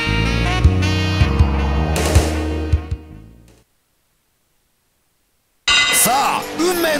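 A wrestling match bell clangs in King of Colosseum 2, a few sharp metallic strikes over steady arena noise that fades to silence before the sound returns.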